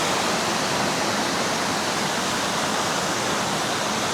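Broad, constant rushing roar of a large river flowing close by in the Lembah Harapan valley in Mojokerto, loud and unbroken with no voices over it.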